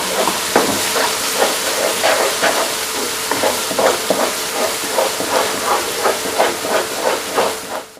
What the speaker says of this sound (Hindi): अब ये जो हमने आलू और चने का पेस्ट बनाया था, अब इसको डालेंगे और इसको भी इसी तरह हमने फ्राई करना है